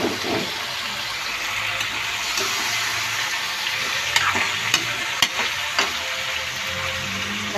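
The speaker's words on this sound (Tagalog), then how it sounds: "gigisa muna natin yung sili bago natin ilagay yung laman ng baboy at saka manok" Chili peppers sautéing in a hot pan for pork adobo give a steady close sizzle, broken by a few sharp clicks and scrapes of stirring, with no talk.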